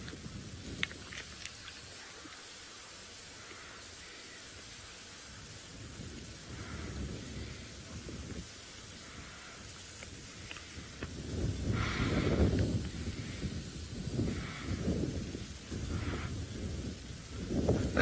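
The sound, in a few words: rain and thunder during a safari drive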